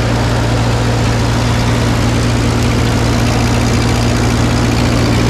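A farm tractor fitted with a faulty alternator idles loud and close, a constant low droning rumble with a steady hum and no change throughout.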